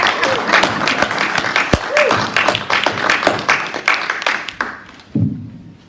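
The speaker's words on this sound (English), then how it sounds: "Let's give Michael Paul one more round of applause." A church congregation breaks into vigorous applause for a performer during a service, a dense wash of many hands clapping that gradually thins out. Voices rise over it near the end.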